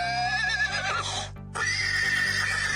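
A horse whinnies loudly and close, a long quavering call that breaks off briefly before a second drawn-out neigh, with no talk.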